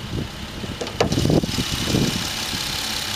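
A car's 3.8 liter V6 engine idling under an open hood, a steady close rumble with a brief louder surge partway through, then settling back to an even idle.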